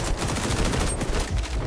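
Gunfire from the shooter video game XDefiant, a dense rapid burst of shots with a continuous rattling roar, loud and alone.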